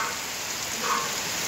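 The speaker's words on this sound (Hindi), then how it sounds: "बारिश जो है काफ़ी स्पीड इख्तियार कर चुकी है।" Heavy rain pouring onto a road in Bahawalpur, Pakistan, a dense, steady hiss of drops close by with no talking.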